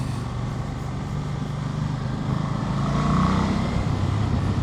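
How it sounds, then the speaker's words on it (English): A 2025 Ducati Multistrada V2S motorcycle being ridden gives a steady engine drone mixed with wind rush, swelling slightly louder partway through, with no talking. "So I've been riding for probably about an hour on this bike."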